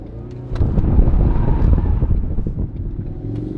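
A 2021 Ford Mustang EcoBoost convertible pushed hard through a corner, its engine roaring loud and steady with wind buffeting the open cabin, the note swelling and holding through the turn without any voices.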